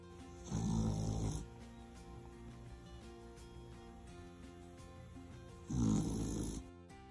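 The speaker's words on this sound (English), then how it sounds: "No, the dog is snoring." Two bursts of deep, rumbling dog snoring, each about a second long and several seconds apart, with a quiet background in between.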